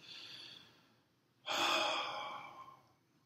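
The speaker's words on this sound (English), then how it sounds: "taking another deep breath." A person takes a deep breath during a calm stress-relief exercise: a soft inhale, a short pause, then a louder, longer airy exhale that fades out, close and alone.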